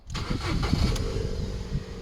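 An old Ford Fiesta's engine cranks briefly and catches at once, settling into a steady, close idle.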